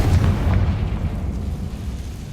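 A Confringo spell explodes in the Hogwarts Legacy video game with a loud, deep, rumbling boom that fades slowly over a couple of seconds, with no talk.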